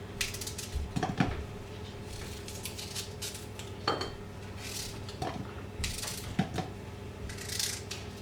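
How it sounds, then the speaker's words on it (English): Sharp knife strikes on a board roughly chopping apples, irregular and spaced apart, with light clinks and rustles between them at close range. "I'm just roughly chopping them"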